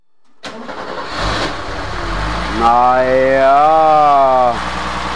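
A car engine cranks and fires on the first try before a vintage race, then settles into a steady mid-pitched idle with a slight rise in revs; someone speaks briefly over it.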